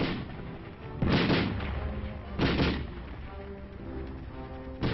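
Browning Automatic Rifle fire at an army training ground, heard as two loud broad bursts a little over a second apart, with a weaker third near the end, over a steady rumbling background.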